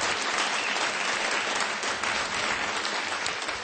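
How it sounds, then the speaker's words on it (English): At a folk concert, the audience breaks into loud, sustained applause that stays dense and even from start to finish, with no voices over it. "So a big round of applause for John Joe Kelly again."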